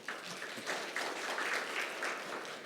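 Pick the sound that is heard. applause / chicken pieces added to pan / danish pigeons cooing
applause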